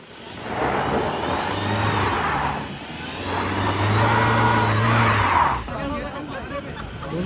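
A Ford Endeavour SUV revs its engine during an extreme 4x4 off-road test, two long surging revs rising and falling, loud and close, with people talking over it.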